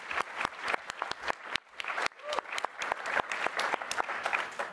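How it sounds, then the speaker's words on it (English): A panel audience applauds a guest with moderate clapping, uneven and textured, with some sharp individual claps standing out, swelling and dipping briefly before continuing for several seconds. "Oh, clap. Come on."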